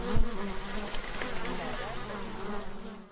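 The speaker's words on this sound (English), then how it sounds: "Sometimes I need to look in the hive to make sure the bees are doing okay" Honeybees buzz steadily around an open garden beehive being inspected, a dense, continuous close-up drone with a brief low thump near the start.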